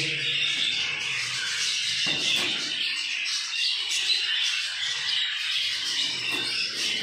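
Pet rainbow lorikeet breeding pairs, home-bred and exhibition-class, squawk and chatter continuously at moderate level in an aviary, with a dense steady layer of bird calls and a few sharper cries.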